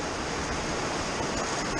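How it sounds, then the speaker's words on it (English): Heavy outdoor rain pours down steadily around a boat converted into a raised garden bed, a dense broadband hiss that stays loud and unbroken. "it's raining pretty good right now"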